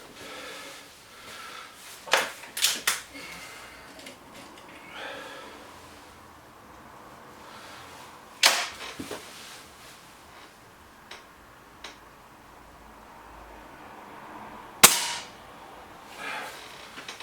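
Air rifle shots from a BSA Lightning SE and a Webley Xocet in a shooting match: a few sharp, separate cracks spread across a quiet stretch, with faint clicks and low background noise between them.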